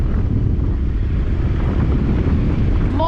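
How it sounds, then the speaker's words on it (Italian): Strong gusting wind buffets a GoPro camera microphone fitted with a windscreen while a motorcycle rides slowly, producing a loud, constant low roar that dominates with no voices. "Vento pazzesco"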